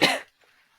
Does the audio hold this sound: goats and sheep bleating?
no